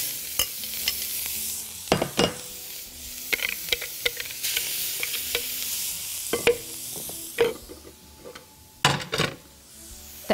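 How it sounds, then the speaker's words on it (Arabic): Marinade for fried tilapia hitting a hot oiled pan, a bright steady sizzle with sharp spoon scrapes and clacks against the pan at irregular intervals, close up, no talking. "هنجيب معلقة زيت واحدة في الطاسة، طاسة سخنة، هننزل بقية التتبيلة هنا"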